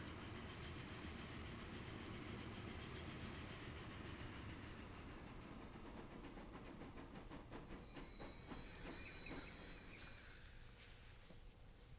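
A Union Pacific steam locomotive hauling the Hiawatha train in Transport Fever, set in the central USA, runs with a steady loud rumble and rhythmic wheel clatter, joined near the end by a brief high metallic squeal.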